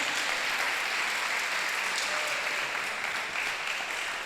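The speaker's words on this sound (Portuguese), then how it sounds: "Aplauda bem forte o nome do Senhor Jesus." Church congregation at a youth congress clapping strongly, a loud, even wash of applause sustained throughout with no speech over it.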